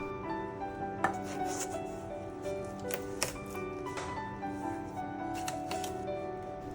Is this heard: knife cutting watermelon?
yes